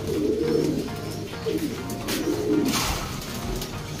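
Speedbird racing pigeons coo in soft, repeated rolling calls at close range over a steady background hum, with no talking.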